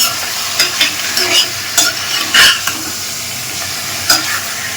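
Sliced pork browns in a hot pan, a close sizzle broken by several sharp scraping stirs at an uneven rhythm, with no voices.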